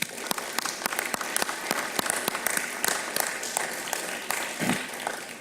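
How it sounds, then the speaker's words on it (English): Audience applause at a police department swearing-in ceremony in Revere, a sustained round of clapping with sharp individual claps standing out near the microphone. "Let's give them a big round of applause."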